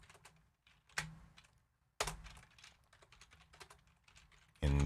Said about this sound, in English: we can actually type in our command to unmute.